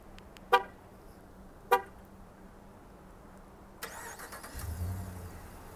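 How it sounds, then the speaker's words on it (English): A 2019 Ram 1500 Sport 4X4 gives two short, sharp horn honks about a second apart on remote start. A pause follows, then the engine cranks and catches into a steady idle, close by, with no talk. "To use the remote start, you just gotta press this button twice. You'll hear a honk."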